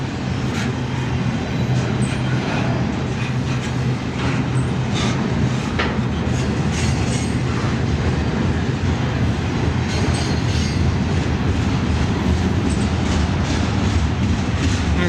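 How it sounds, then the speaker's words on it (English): A train rumbles past close by at the Tucson station, a steady loud roar of wheels and rail noise with faint clatter, continuous throughout. "I'll come after this train passes."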